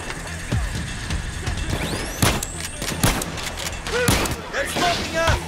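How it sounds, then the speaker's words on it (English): Nova shotgun fire in the Payday 2 video game during a heist shootout, with several sharp gunshot blasts spread across the scene amid ongoing game noise, clatter and background voices. "Shooting."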